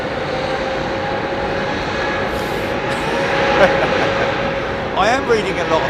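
Embraer E145 jet at London Heathrow Airport, a steady engine drone with a thin whining tone that swells slightly midway, under continuous talk.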